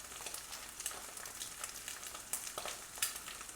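Eggs fry in a red granite pan with a soft, steady sizzle and scattered small pops and crackles, close and fairly quiet, with no talking.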